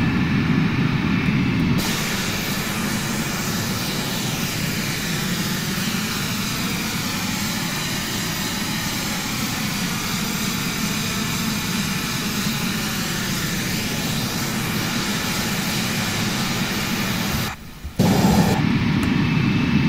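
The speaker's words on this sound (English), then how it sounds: "there's the airbus that was going to be landing" An Airbus airliner lands in Microsoft Flight Simulator X, a sustained broad engine roar with whistling jet tones that holds steady for most of the clip before cutting out briefly and returning near the end.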